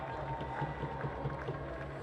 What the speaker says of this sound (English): We got a nice crowd here. Yeah, they're nice and loud, too.